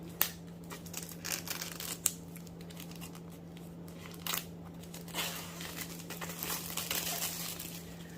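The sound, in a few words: paper being handled and unwrapped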